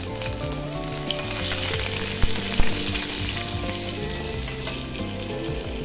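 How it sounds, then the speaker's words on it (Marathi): Gram flour sizzling and frying steadily in hot oil in a pan while being stirred for buttermilk kadhi, a continuous close crackle with a few soft clinks, no talking. "ते चांगलं तेलामध्ये परतून घ्यायचं आहे।"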